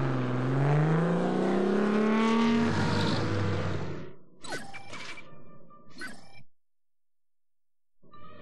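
Car engine in a 2005 James Bond video game set in Istanbul, revving loudly as the car pulls away, then fading into brief mechanical clatter and door-like clunks before a short silence.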